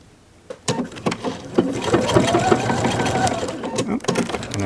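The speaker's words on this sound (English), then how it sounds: "And I'm starting to sew a second buttonhole." A sewing machine stitches a buttonhole on a dress, its motor whirring in short bursts and then a sustained run, with sharp clicks at the start and end.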